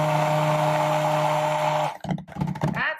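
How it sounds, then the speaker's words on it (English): A stick blender whirs in a steady, loud, high motor whine while it mixes soap batter with mica pigment, running for about two seconds before cutting off into clattering handling noises. "So just put your stick blender right over that mica,"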